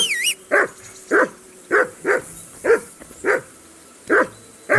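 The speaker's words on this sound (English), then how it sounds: "Where's my dog? He's just barking." A dog barks repeatedly in the video game Kingdom Come Deliverance 2, about eight evenly spaced, clear barks close by, with a short whistled call just before them.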